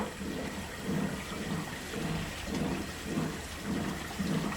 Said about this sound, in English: once Tommy removes the plug, then the water will all drain out